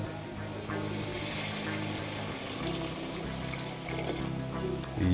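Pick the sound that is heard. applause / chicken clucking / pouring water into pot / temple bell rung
pouring water into pot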